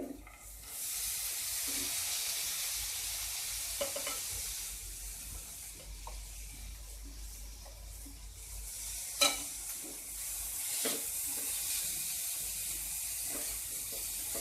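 Sprouted moong being stirred into a hot, sizzling pan with garam masala for a simple home-style sabji, giving a steady frying hiss with scraping stirs and a sharp clatter around the middle, close up and without talk.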